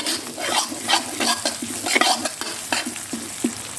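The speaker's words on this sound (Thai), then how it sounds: "ขั้นตอนแรกเอาพริกแกงครับ เป็นพริกแกงสำเร็จรูปครับพี่น้องครับไปผัดกับน้ำมันผัดจนหอม" Ready-made Thai red curry paste stir-fried in oil with pork in a pan, a steady sizzle broken by repeated scraping strokes of a utensil against the pan, close and continuous.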